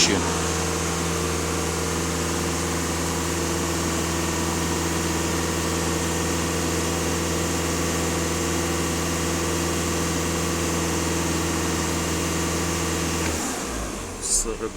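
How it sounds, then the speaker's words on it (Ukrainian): A Skoda Yeti 2.0 TDI diesel holds a steady, loud drone at about 2500 rpm, with even harmonic tones for roughly thirteen seconds before the revs drop off sharply near the end. "Даю газ в пол 2500."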